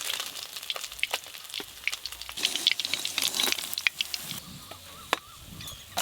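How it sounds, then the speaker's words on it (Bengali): Tul fish frying in hot oil, giving an irregular crackle with sharp spits and pops over a steady low sizzle, close and fairly loud throughout. "এদিকে তুল মাছগুলো ভাজা হতে হতে"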